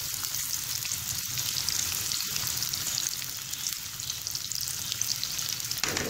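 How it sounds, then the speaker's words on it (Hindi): Onions frying in hot oil for a Hyderabadi chicken dum biryani, a steady close sizzle with crackling that holds evenly throughout with no talking. "अब हम इसके अंदर प्याज ऐड कर देंगे और प्याज को हम फ्राई कर लेंगे।"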